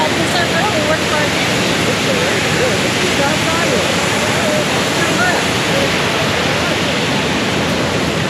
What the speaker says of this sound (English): We got really excited about the waves.